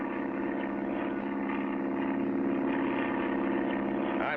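A propeller plane's engine drones steadily and evenly at moderate level as the craft takes off, with no voices over it.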